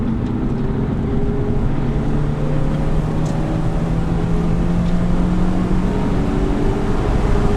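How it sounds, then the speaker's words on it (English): A Corvette on a race track during an instructed driving event, its engine droning steadily and loud throughout with a rising, continuous pitch as it builds speed, no talk over it. "I'll start going on the throttle."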